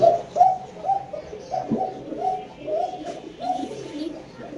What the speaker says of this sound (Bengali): এক জোড়া কবুতর কি পরিমাণ ডাকতে পারে